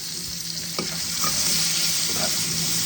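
Chopped onions frying in hot oil with black cumin seeds, a steady close sizzle with a few stirring scrapes, rising slightly as it goes on, no talking.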